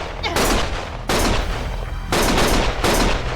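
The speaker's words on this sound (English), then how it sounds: "Stop shooting!" Bursts of gunfire crack out in three loud, close volleys separated by brief pauses, each a dense rattle of rapid shots.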